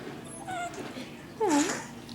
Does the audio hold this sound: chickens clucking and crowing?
no